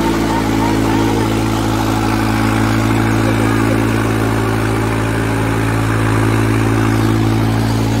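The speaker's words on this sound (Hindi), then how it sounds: "ट्रैक्टर पूरा काप रहा भाई" Engine of a New Holland 3630 Special Edition tractor running steadily and loud at close range, a continuous low droning hum with a strong rumbling tone throughout, at a tractor competition.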